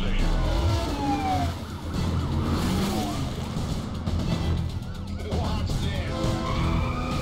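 A police siren wails in the racing video game Need for Speed Carbon, its rising and falling sweeps riding over a dense bed of engine roar and road noise, loud throughout with a brief dip near the middle.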